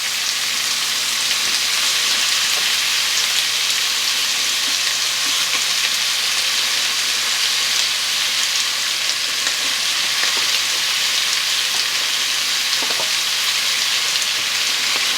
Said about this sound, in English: We're going to let it brown on a high heat